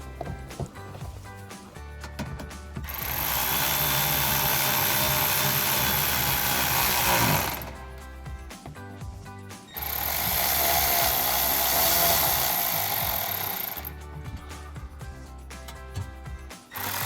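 A power tool with a 5.5mm socket drives belly pan screws back in on a 2005-2009 Mustang, running in two long, loud whirring bursts separated by short pauses and quieter clicking handling noises.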